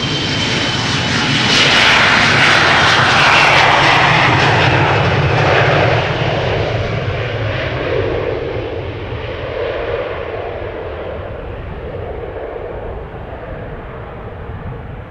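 A Finnair Airbus A321 jet departing Amsterdam Schiphol Airport thunders close by, its engine roar loud and broad at first, then slowly fading and thinning as the aircraft climbs away.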